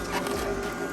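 A juicer grinds vegetables for green juice, producing a continuous, close mechanical whir with a steady tonal motor hum and no pauses.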